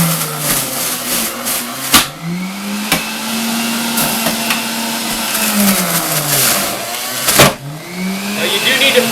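Breville Juice Fountain Elite centrifugal juicer running at high speed while juicing carrots, a loud steady motor whine that dips and recovers in pitch under load, with sharp thumps as carrots are pushed in.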